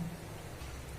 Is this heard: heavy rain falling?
yes